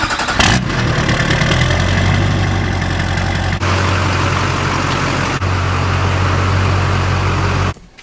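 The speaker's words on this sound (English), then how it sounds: "Now you might want to go ahead and pull the truck in the garage" A truck engine runs steadily up close as the truck is pulled into a garage, a constant low rumble with brief dips, cutting off near the end.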